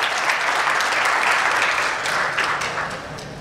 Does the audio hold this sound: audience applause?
yes